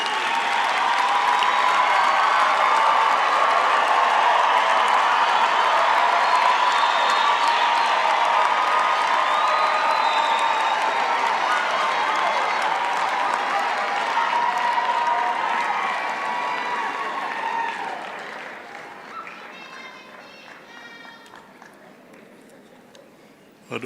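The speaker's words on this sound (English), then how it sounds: "I'd also like to request the graduating class to give a big hand of applause to their families." Large audience at a university graduation ceremony applauding the graduates, loud sustained clapping with some cheering that gradually fades away near the end.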